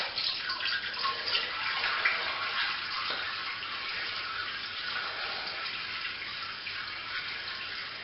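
Liquid draining steadily off during homebrewing of a watermelon weisse beer, a soft, continuous watery trickle and hiss that stays even and fairly faint throughout, with no one speaking.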